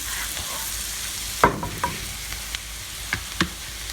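Garlic sautéing in butter in a pan gives a steady, bright sizzle throughout, with several sharp spoon taps and scrapes from stirring punctuating the hiss at close range.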